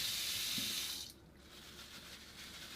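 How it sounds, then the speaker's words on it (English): Tap water running into a sink as it is rinsed out, a steady broadband wash that is loud for the first second, then drops to a softer, continuous trickle. "let's rinse the sink out a bit first"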